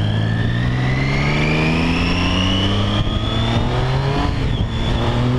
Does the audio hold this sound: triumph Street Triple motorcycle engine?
yes